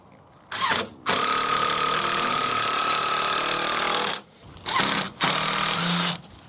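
A power drill drives toe screws into a shed ramp joist in loud whirring bursts: a short spin, a long sustained run, then two more short runs close together.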